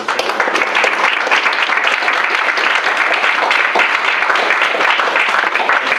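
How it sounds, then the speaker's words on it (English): An audience at a Stanford fireside chat gives the guests a steady round of applause, dense clapping sustained for around six seconds with little talk. "giving a round of applause for our guests here"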